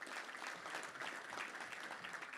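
A luncheon crowd at a Little Rock touchdown club gives a round of applause for a longtime Arkansas State sports reporter: a faint, steady, distant wash of many hands clapping.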